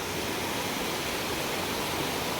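Steady, dense roar of a high mountain waterfall on a forest trail, continuous broadband rushing water filling the whole moment with no pauses, close and loud.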